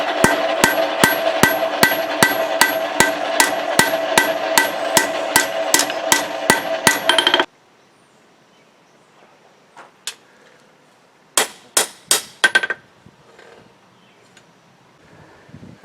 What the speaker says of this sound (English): So now I'm going to forge in the bevels.